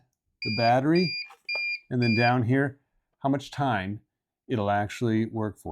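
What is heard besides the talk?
APC BR1500MS2 UPS beeping on battery power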